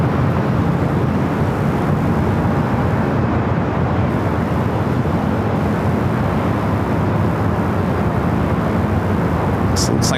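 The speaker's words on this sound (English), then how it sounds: "Looks like we got two landings going on here on the north side." Jet airliners landing on the north side of LAX, including a Delta 757, roar as a steady, loud broadband rumble that stays constant throughout, with no distinct pauses.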